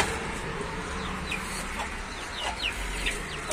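A rooster and hens in a chicken coop cluck softly and intermittently, with short chirpy calls over a steady low background hum.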